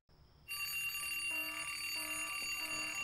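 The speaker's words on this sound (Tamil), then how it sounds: "அலாம் யாரா வச்சது இந்த நேரத்துக்கு?" A phone alarm bursts into loud, repeated electronic ringing after a brief quiet moment indoors, the tones pulsing in a steady rhythm for the rest of the clip.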